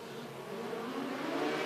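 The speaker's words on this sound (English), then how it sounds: "As you hear the cars winding up" Dwarf race cars winding up together down the back straightaway as a 25-lap dirt-track feature takes the green flag, a steady, dense engine roar building slightly louder with no talk over it.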